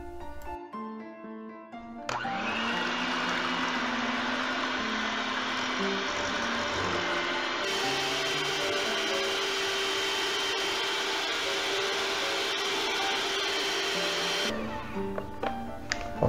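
An electric mixer whisks egg whites with a little salt, whirring at a steady high pitch for about twelve seconds after a brief start, then stopping, close and loud with no speech.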